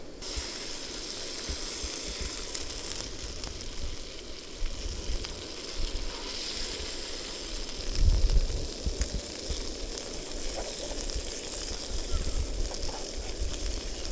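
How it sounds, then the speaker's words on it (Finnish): Small sunfish fillets frying in a pan, giving a steady crackling sizzle throughout with a brief louder burst of spitting oil near the middle. "pannulle tirisemään ja sit heitetään siihen päälle"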